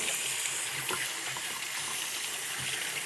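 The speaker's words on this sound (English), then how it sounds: "I'm going to wash this stuff off my hands" Water runs steadily from a tap as hands are washed under it, a continuous broadband splashing hiss lasting the whole stretch with no talk.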